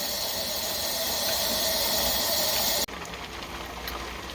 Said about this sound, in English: There's a good flow of steam.